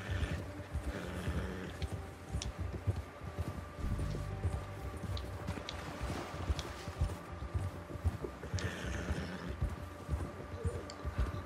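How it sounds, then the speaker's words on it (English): Horse hooves clip-clop steadily in Red Dead Redemption 2, a continuous walking rhythm at moderate loudness over snowy ground, mixed with ambient game sounds throughout. "My horse needs to shut the fuck up."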